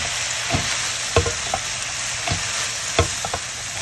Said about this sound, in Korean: 야채가 색이 나도록 볶아주고 데진 오징어를 넣고 볶아주세요.